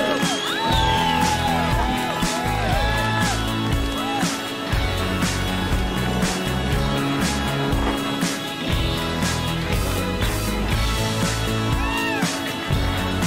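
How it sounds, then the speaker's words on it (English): An outdoor crowd at a Dew Tour women's ski pipe final cheers for the podium champion, with dense continuous applause, whoops and shouts filling the whole stretch, loud and sustained. "So give her a big round of applause for Canada's Rachel Carker."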